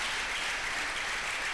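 Steady, dense applause from a seated audience at a lecture on substance use, a continuous wash of clapping at even loudness with no voices over it.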